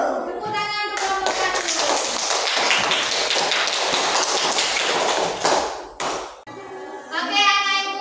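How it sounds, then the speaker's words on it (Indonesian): Schoolchildren in a classroom clap together for a group, a loud, dense burst of hand claps lasting several seconds that breaks off abruptly, with children's voices chattering before and after. "Tepuk tangan untuk kelompok"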